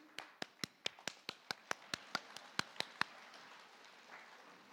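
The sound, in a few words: audience giving a round of applause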